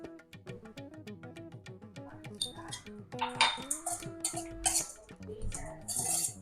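A spoon scrapes and clinks against a pan as coconut rice is stirred, the metal knocks coming in irregular bursts that grow busier and louder toward the end.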